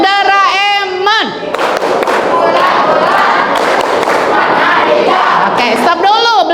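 Children in a classroom perform a rhythmic group clap, the Doraemon clap, a dense burst of many small hands beating together over roughly four seconds, framed by a voice speaking before and after.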